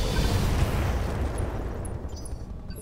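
A mech's rocket salvo in the Roguetech video game, a dense roaring blast of launches and explosions that starts loud and slowly fades into a rumbling tail with scattered crackles.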